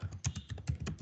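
Typing on a computer keyboard to enter a PostgreSQL query, with quick, slightly irregular clicking keystrokes close by and no voices.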